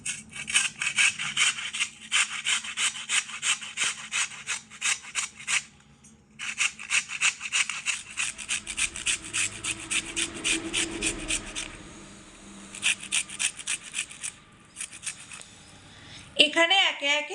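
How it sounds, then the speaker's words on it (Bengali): Peeled medium-sized raw potatoes rubbed against a grater, fast rhythmic rasping strokes in long bursts with short pauses, close up, ending with a brief knock. "প্রথমে আলু দুটোকে গ্রেট করে নেব।"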